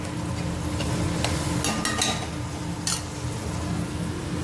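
Pigeon peas cooking in a pan of tempered vegetables with fried chillies, a soft steady sizzle broken by a few sharp metal clinks from stirring.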